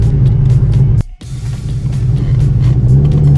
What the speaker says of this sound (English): I'm letting the car warm up right now